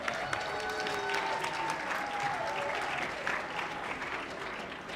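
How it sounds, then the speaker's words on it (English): An audience at a high school chorus concert claps in sustained, even applause that fills the hall, with faint tonal notes ringing underneath. "Can we please give him a round of applause?"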